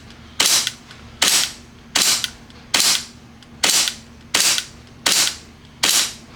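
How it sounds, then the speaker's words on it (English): An airsoft pistol fires a string of eight evenly spaced, sharp snapping shots, loud and close, each with a brief decaying tail and quiet pauses between. "let's just try to get 20 shots"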